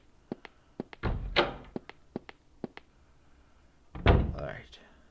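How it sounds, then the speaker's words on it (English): In the PS1 horror game Clock Tower, a door opens with a heavy thunk and creak, and a second thud follows a few seconds later, among sharp tapping clicks and a voice talking briefly. "Open the door."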